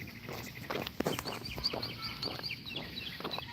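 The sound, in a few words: birds chirping outdoors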